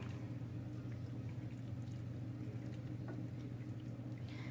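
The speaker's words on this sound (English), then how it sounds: "I'm going to put a little bit of that pasta water in there" Steady low rushing of pasta water being poured into a sauce pan, a continuous even wash of sound with faint bubbling, close by and uninterrupted.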